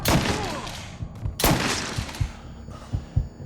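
Gunfire in the Mafia III video game crackles through a fusillade of sharp shots, with dense bursts at the start and again midway and heavier thuds scattered across the rest, close and loud.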